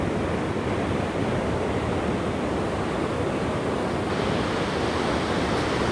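Ocean waves on Mission Beach in San Diego, a steady broadband roar of surf with continuous washing noise and light wind, no distinct breaks or voices, fairly loud and even throughout.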